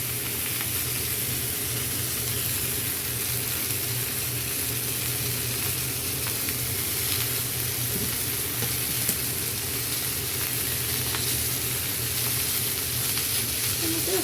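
Oil sizzling steadily in a pan as food fries, a loud continuous hiss close up with no breaks.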